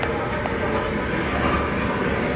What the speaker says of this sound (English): You can hear the train running.